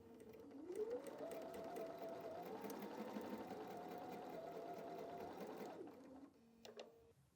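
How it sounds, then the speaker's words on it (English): Sewing machine stitching fabric corner to corner along a drawn line, a close, even mechanical whirr that speeds up and holds steady for several seconds, then stops with a few soft clicks. "I'm going to sew corner to corner on the line."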